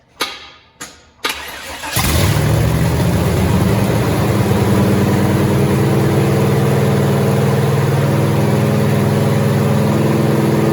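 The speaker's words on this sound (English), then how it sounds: "It runs, baby! It's idling way too high." A 1972 Chevy Suburban's new crate engine cranks a few times, then starts and settles into a loud, steady, fast idle that holds without changing; the idle is set too high.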